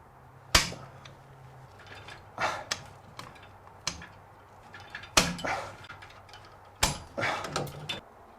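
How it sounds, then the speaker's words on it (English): A Ridgid no-hub soil pipe torque wrench tightening couplings on cast iron drain pipe, with sharp metallic clicks and ratcheting snaps spaced irregularly over several seconds, close and fairly crisp. "I'm using a rigid no-hub soil pipe torque wrench, which clicks and stops when you get to 80 inch-pounds"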